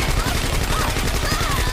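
Gunfire in a video game at a championship final, fast rattling shots under dense game sound, loud and continuous through the moment.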